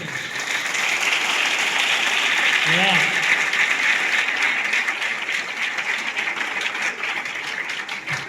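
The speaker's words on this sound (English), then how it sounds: "If ଶୁଣନ୍ତୁ। you want to clap for my Jesus, clap fully" A church congregation claps for Jesus in sustained, full applause, many hands beating together loudly and evenly for several seconds with a brief voice rising midway.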